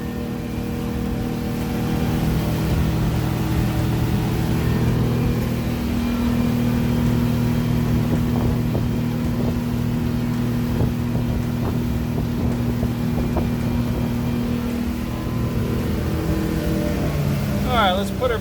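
A 2004 Century 2300 WA boat with a Yamaha four-stroke engine runs at a steady, loud drone from start to finish, with wind noise over it.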